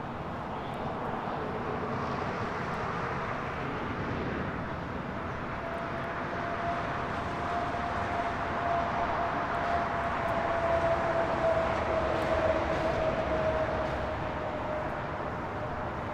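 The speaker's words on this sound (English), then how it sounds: "This is Korean Air Flight 18 Super taking off to Seoul on the A380." A Korean Air Airbus A380 jet takes off at LAX, a broad continuous engine roar with a steady whining tone, swelling gradually louder toward the middle and holding strong, with no talk.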